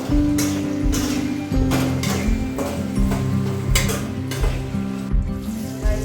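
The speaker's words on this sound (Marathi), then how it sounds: "तर मी ते बटाटे फ्राय करते." Potatoes frying in a pan for poha, a steady loud sizzle with scattered metallic clinks and scraping of a spatula against the pan throughout.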